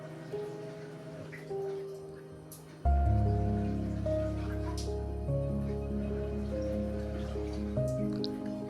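Water is poured into a cooking pot for moong dal rice. After light drips, a sudden loud, continuous gushing pour runs close and steady to the end.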